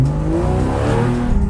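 A 2013 Porsche 911 Carrera S Cabriolet engine and exhaust pulls hard under acceleration. The note is loud and close, with rising harmonic tones held steadily for a brief stretch and no talk over it.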